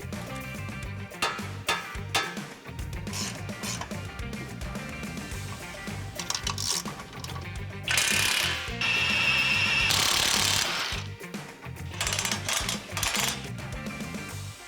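A hand ratchet backs out the ABS bracket bolts on a 2025 Toyota Tacoma during a lift kit install, clicking rapidly and steadily up close, with a few louder bursts of harsh metallic whir in the middle.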